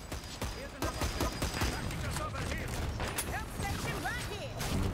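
Short bursts from a burst-fire weapon in the online shooter Dirty Bomb crack out repeatedly amid a busy, noisy battle, with quick clustered shots over continuous background clatter.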